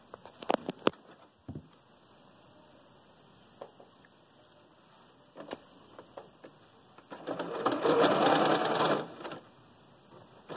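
A sewing machine stitching fabric for a 3D face mask: a few brief taps and clicks, then a short burst of rapid whirring stitches near the end, quiet and close.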